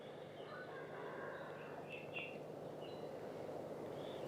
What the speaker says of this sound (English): the happy rooster we have in the background